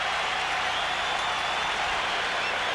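Baseball stadium crowd at the 1995 MLB All-Star Game in Arlington, Texas, cheering for a hometown player: a steady, broad wash of applause and crowd roar, distant and sustained.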